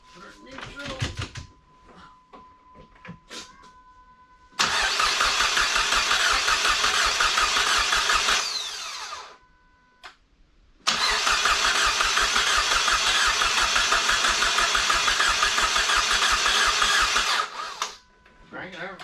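SRT4 engine being turned over on a test with the transmission in neutral, two long loud cranking runs with a steady rapid churning rhythm, separated by a pause, with people talking nearby before and between.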